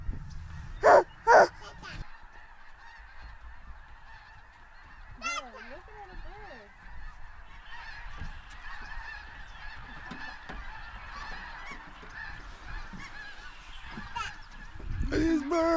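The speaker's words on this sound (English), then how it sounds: "Thousands At least hundreds of geese." A large flock of geese honks continuously in the distance, a dense overlapping chorus, with a voice speaking briefly and a dog barking once nearby.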